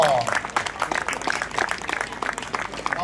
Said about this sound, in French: On peut l'applaudir très très très très très très fort.